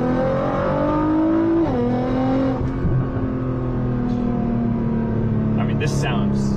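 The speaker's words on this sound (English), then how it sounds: "This is taking all sorts of induction noises, really meaty exhaust" A sports car accelerating on a highway on-ramp, its engine climbing through gears with a loud meaty exhaust roar and induction noise, close and continuous, with a shift-like dip partway.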